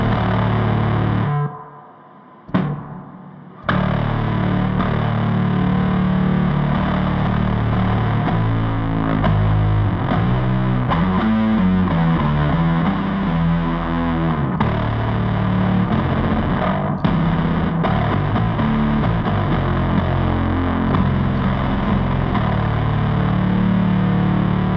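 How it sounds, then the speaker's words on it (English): Thick, heavily distorted fuzz pedal tone from a pedalboard, sustained and loud with a brief cutout near the start, then a continuous buzzing wall of sound with shifting pitch. "I don't want to get in the way of the guitars with my fuzz sound"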